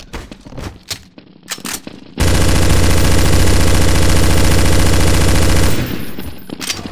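Counter-Strike: Source zombie escape mod gameplay with sustained, loud automatic gunfire that runs unbroken for several seconds, preceded by scattered individual shots and followed by fading fire.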